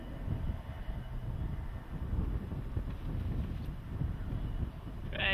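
A low, steady rumble builds beneath gusting wind, like a train drawing nearer in the distance, with a brief higher-pitched sound right at the end.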